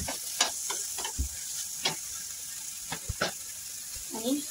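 Capsicum added to a pan of softened tomato and onion, frying with a continuous sizzle while a utensil clatters and scrapes in short, irregular knocks close by, with a faint voice in the background.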